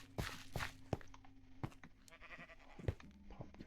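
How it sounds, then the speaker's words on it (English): Sheep bleating in the Minecraft video game, a few soft bleats mixed with footstep thuds and faint background ambience, fairly quiet. "Lots of sheep."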